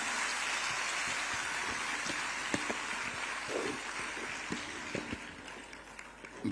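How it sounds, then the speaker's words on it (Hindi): A crowd applauds at an outdoor political event with a chief minister present, a steady wash of clapping that holds throughout at moderate distance. "जोरदार तालियां हो जाएं एक बार"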